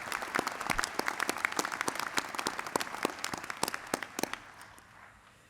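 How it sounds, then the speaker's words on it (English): Audience applause at a Massey University graduation ceremony in Manawatū, a hall full of sharp claps rising together and then thinning out and fading toward the end. "Ladies and gentlemen, another round of applause."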